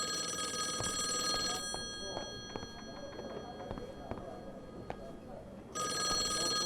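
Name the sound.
telephone ringing in the video game Call of the Elder Gods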